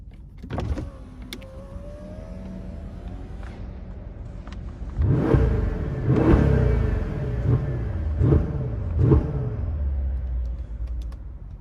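A 2015 Mercedes-Benz S63 AMG with a 5.5-litre V8, set to sport mode, revs up in a run of about five sharp, throaty bursts that rise and fall close by, following a quieter stretch of idle.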